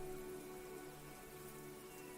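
Steady rain falls as background ambience in a tabletop role-playing session, a constant even wash with soft tonal music underneath and no voices.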